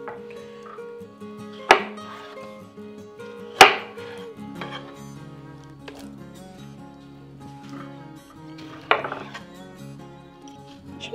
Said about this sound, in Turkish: Bunun içine bunları böylece şöyle kabaca bölüp atacağım.